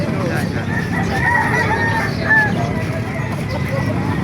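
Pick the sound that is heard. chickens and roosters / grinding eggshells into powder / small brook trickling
chickens and roosters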